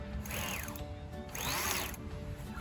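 A freewheel ratchet on a SAMEBIKE folding electric bike clicks rapidly as the pedal is spun, in two close, steady bursts of fine mechanical ticking over a low background hum.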